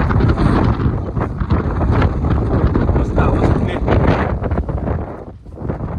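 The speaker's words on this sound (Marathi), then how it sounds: "मस्त हवा सुटली." Strong wind blowing at Lohagad fort, buffeting the microphone in loud, continuous rumbling gusts that ease briefly near the end.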